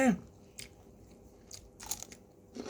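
Crispy dried Thai fish entrails (tai pla haeng) crunch between the teeth in several sharp, close bites spread over a few seconds, with chewing in between and no talking.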